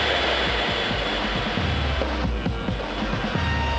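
A loud, continuous helicopter engine roar with a throbbing low rotor beat fills the scene steadily at an airshow, close and dense, with no speech.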